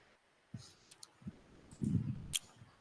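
Computer mouse clicking a few times at a desk, with soft separate clicks and faint background noise.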